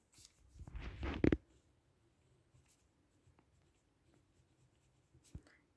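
A pen scratches a short word into a notebook in a quick, close burst of rustling strokes, followed by near silence with a faint tap or two.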